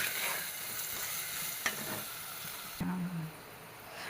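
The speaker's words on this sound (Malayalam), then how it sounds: "ഇതൊന്ന് നന്നായിട്ട് എണ്ണയിൽ വഴറ്റിയെടുക്കണം" Chayote sautéing in oil in a pan, a continuous close crackling sizzle with a couple of sharp stirring clacks and a short scraping stir near the end, no voices.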